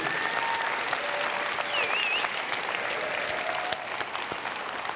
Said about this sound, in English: Go on, give it a cheer.